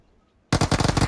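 After half a second of near silence, a battle royale game's machine gun cuts in abruptly, loud and close, rattling off a fast, even string of rounds to the end.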